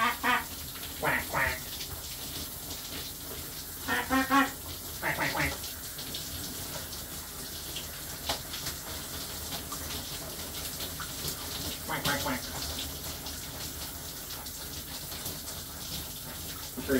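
Shower water runs steadily in a bathroom with a cockatoo, a continuous hiss and patter broken by bursts of squawking bird calls and a person talking.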